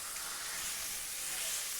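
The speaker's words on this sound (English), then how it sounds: "And you want to hear that sizzle." Chuck roast sears face down in a hot pan, giving a steady, close, bright sizzle that runs evenly without a break.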